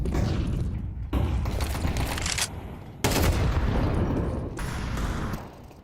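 Counter-Strike gunfire plays in dense bursts of pistol shots, loud sharp cracks with boomy tails, broken by short gaps.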